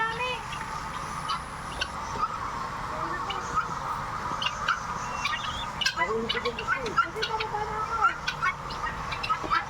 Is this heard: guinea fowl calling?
yes